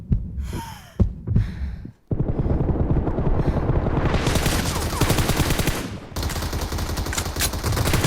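Dense automatic gunfire from the mobile shooter game PUBG Mobile rattles loud and close in sustained bursts, following a few sharper single shots and a brief pause.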